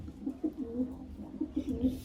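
A caught stray pigeon with a leg band coos softly and repeatedly, a low rhythmic series of throaty calls close by, fairly quiet with faint room noise.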